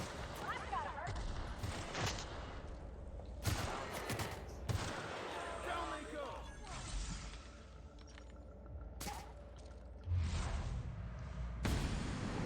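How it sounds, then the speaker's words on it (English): A sniper rifle shot in The Outer Worlds cracks loudly among several sharp gunshot bursts spread through a noisy game battle, with talking heard throughout. "eat a headshot from my sniper rifle"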